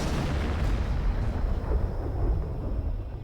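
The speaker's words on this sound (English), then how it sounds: "Stalin institutes a salvo of cannons to celebrate each victory." A wartime cannon salvo fired in celebration of a victory rolls as heavy, overlapping booms, loud and continuous, rumbling on and slowly fading away.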